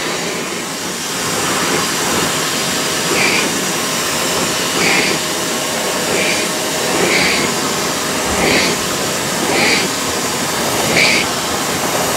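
A Shark StainStriker HairPro PX251 portable carpet cleaner works over a pet bed, its motor whirring steadily with a loud suction roar and periodic slurping surges as the nozzle passes, close up.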